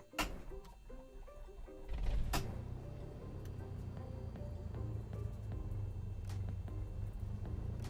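In Microsoft Flight Simulator, a primed aircraft propeller engine cranks over and catches after a couple of seconds, then settles into a steady low rumbling idle that gradually builds, with no voices.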